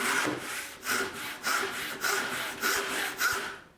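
A hand saw cuts a wooden plank on a workbench in steady back-and-forth strokes, about seven rasping pushes in a regular rhythm, close and moderately loud.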